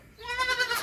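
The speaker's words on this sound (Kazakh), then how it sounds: "Голландский занин ешкінің теке лақтары." A single short bleat from a pure Dutch Saanen goat buck kid, close and clear with no talk over it.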